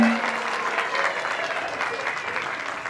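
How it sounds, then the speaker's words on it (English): Steady, dense applause from an audience at a kindergarten graduation ceremony, a continuous wash of many hands clapping close by throughout. "Round of applause for them."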